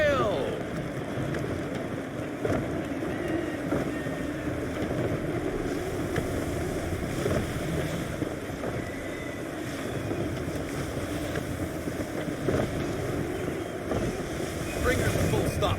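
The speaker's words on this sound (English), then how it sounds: "Gusty winds can be difficult to manage." A sailing ship at sea in Assassin's Creed III carries steady wind noise, creaking hull and wash of waves throughout, with a constant rushing bed and occasional voices speaking over it.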